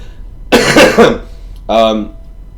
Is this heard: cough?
yes